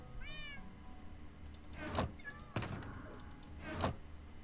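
Cats in the Minecraft video game meow several times in quick succession, with short rising and falling calls spaced about a second apart, alone over quiet background sound.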